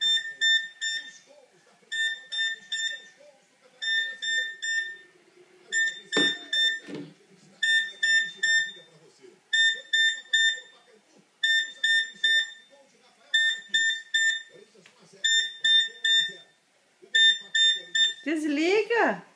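A telephone giving off an electronic beeping alarm in repeated bursts of rapid high beeps, steady and insistent for nearly twenty seconds, with quiet speech and a few louder vocal noises underneath.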